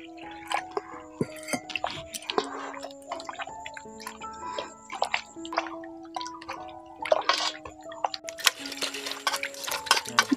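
Homemade soya chunks being washed in water in a pot: intermittent sloshes, drips and squishy handling with occasional clinks against the pot, close and fairly quiet, with sharper splashing near the end.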